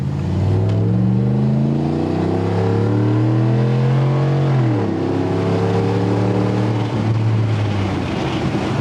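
A Jeep Gladiator with a 5.7-liter Hemi V8 revs hard and loud, its deep rumbling engine note climbing in pitch, dropping briefly, then climbing again.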